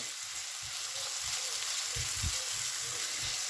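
Onions sauté in a pan, a steady bright sizzle with soft periodic stirring scrapes, close and continuous without talk.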